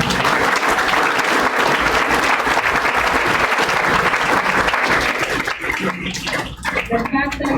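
An audience at a high school national debate in the FSM gives the participants a dense, loud round of applause that carries on steadily, then thins out near the end as a voice returns.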